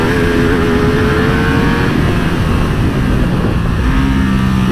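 A Ducati Streetfighter V2, a mid-displacement motorcycle, accelerates hard on track, its engine note loud and close as it climbs steadily through the revs, then drops and picks up again with a gear change near the end.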